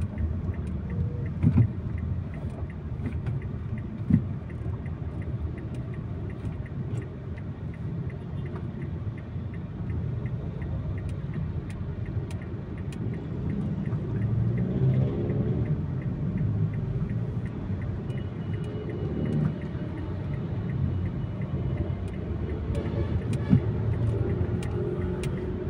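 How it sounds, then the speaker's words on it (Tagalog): Heavy, congested road traffic on Quezon Avenue makes a steady low rumble of idling and creeping vehicles, with faint scattered ticks and clicks and no speech. "Super traffic na po sa Quezon Ave."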